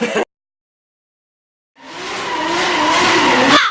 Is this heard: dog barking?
no